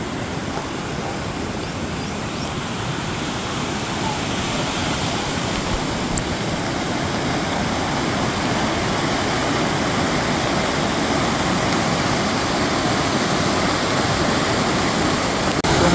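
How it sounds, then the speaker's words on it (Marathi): Water surging over Bhushi Dam near Lonavala during monsoon rain makes a loud, continuous rushing roar like a waterfall, steady and unbroken throughout, with no voices. "पाऊस पडतोय छान त्यामुळे पाण्याला प्रवाह पण आहे"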